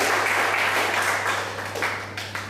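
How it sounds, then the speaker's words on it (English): An audience at a professional development session bursts into brief, lively applause, many hands clapping together before it fades out. "Let's all clap it up for her for reading that."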